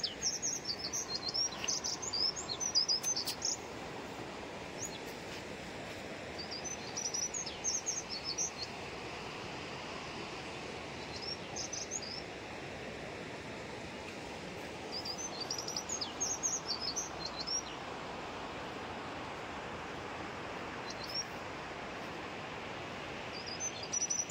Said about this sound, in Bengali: পাখির আওয়াজ।